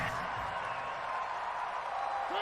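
Stadium crowd roaring at a Tennessee Titans versus Jacksonville Jaguars NFL football game, a steady, distant wash of noise that holds level throughout without peaks.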